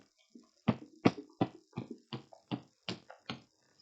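About nine sharp, separate claps in a loose uneven rhythm, close and isolated, as a lone pair of hands tries to imitate applause.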